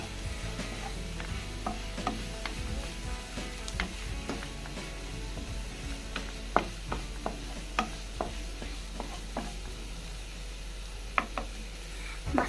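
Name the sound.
stirring turmeric and garam masala in a pan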